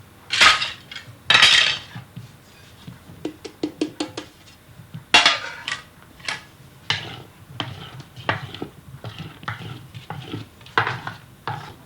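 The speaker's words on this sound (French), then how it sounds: "Maintenant qu'elle est pratiquement froide, je vais mélanger doucement la farine dedans." A utensil gently folds flour into cooling Yule log cake batter in a bowl, producing irregular clinks and scrapes against the dish, some sharp and close, with quieter soft stirring between them and no talking.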